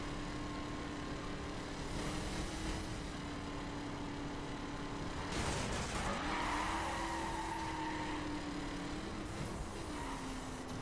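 Race cars in a Ford versus Chevy racing video game, engines droning steadily with tire squeal and skidding bursts midway, continuous and fairly loud throughout.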